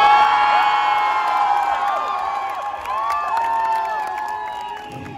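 A large live concert crowd in Hyderabad cheers and whoops loudly and steadily, a dense roar of many voices with high shouts rising above it. Little distinct clapping stands out.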